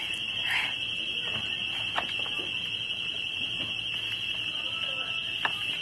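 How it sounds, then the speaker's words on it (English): A loud, continuous high-pitched alarm rings without pause, with voices and scattered movement sounds underneath. "You hear the fire alarm? Not the fire alarm, whatever it's called, the alarm."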